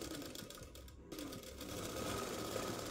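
A sewing machine stitches an umbrella dress, running in a steady, quiet mechanical whir with a brief pause near the middle, heard close without voices.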